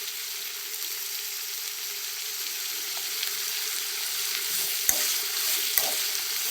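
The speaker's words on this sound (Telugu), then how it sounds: "బాగా ఫ్రై అవ్వాలి. ఫ్రై అవుతున్నాయండి. బాగా ఫ్రై అవ్వాలి." Mint fries in oil for bagara rice, giving a steady close sizzle throughout with a couple of light stirring clicks near the end.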